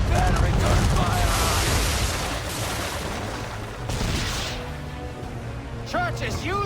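Ship cannon fire in Assassin's Creed 3 sounds as loud, rolling booms and crashing blasts in a naval battle. Heavy rumbling impacts come in waves, with shouting voices and clattering noise near the end.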